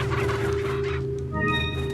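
Chickens cluck and gobble in Resident Evil 4, a close, continuous fowl chatter with a brief shift in pitch partway through, game ambience droning underneath.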